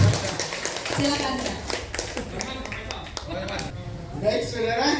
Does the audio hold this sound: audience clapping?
yes